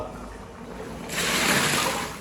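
Water pours into a large pot of rice being prepared for a commercial beef pulao, starting partway through as a steady, close rushing stream over a low background hum.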